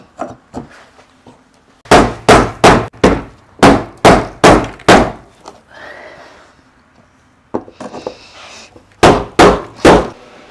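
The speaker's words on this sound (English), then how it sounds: "We'll need to take a hammer to tighten it back up all the way." Hammer strikes tightening a fuel pump lock ring on a 1997–2006 Jeep Wrangler TJ fuel tank, loud close metallic bangs in quick bursts of several blows, with short pauses and a faint scrape between.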